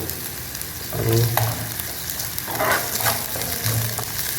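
Cumin seeds sizzle in hot oil for a drumstick-leaf kulambu, a steady close frying hiss with stirring scrapes, and one brief spoken word.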